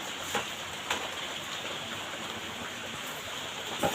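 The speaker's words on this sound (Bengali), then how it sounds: "আর বাইরে তো একদম বৃষ্টি হচ্ছে আজকে মনে হয় না বৃষ্টি থামবে" Heavy rain falls outdoors, a steady, faint broadband hiss that runs for the whole stretch, with a few soft thuds or drops standing out now and then.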